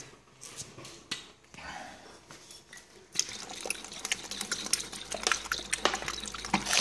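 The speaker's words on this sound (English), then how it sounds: "put Worcestershire sauce." Worcestershire sauce splashes out of a bottle onto raw biltong meat, a close, wet pouring and sprinkling sound that starts partway through after some quieter handling noises.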